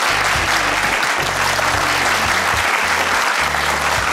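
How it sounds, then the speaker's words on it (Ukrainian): Steady applause from a TV studio audience, sustained clapping throughout with no pauses. "Давайте оплесками підтримуємо."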